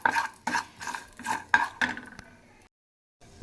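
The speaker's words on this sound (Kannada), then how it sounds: "ಅದಕ್ಕೆ ಸ್ವಲ್ಪ ಗೋಡಂಬಿ ಹಾಕಿ ಒಂದು 2ರಿಂದ 3 ನಿಮಿಷ ಫ್ರೈ ಮಾಡ್ಕೊಳ್ಳಿ." Cashews frying in oil in a pan, heard as a series of soft scraping stirs with a spoon, about five strokes close up, followed by a brief silence.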